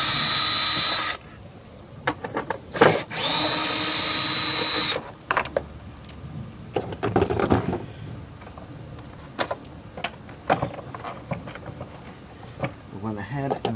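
A power tool whirs in two loud sustained bursts, removing 12mm bolts inside the airbox of a Toyota 4Runner during a TRD cold air intake install, followed by clattering, clicking handling sounds.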